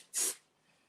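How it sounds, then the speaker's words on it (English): Mold release sprays from an aerosol can over a trash can in a studio, one short, sharp hissing burst close by that quickly fades to quiet. "So I'm going to spray it, and I'm going to spray it over the trash can."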